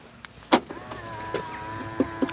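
Power window motors in an Alfa Romeo Giulia 2.0 turbo sedan whir in a short, rising electric whine, punctuated by several sharp clicks and thumps as the glass starts and stops, close and clear.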